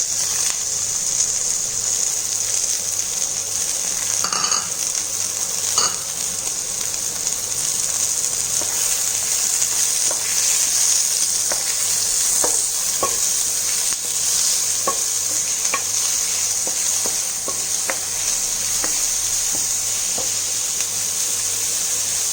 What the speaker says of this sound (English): Once the ghee is heated, add the chopped onion and curry leaves.